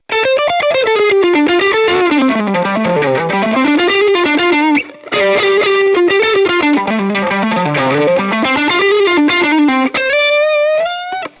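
Electric guitar on the neck pickup driven through pedalboard distortion, loud and saturated, playing fast sliding melodic runs that rise and fall, briefly pausing midway and ending on sustained held notes.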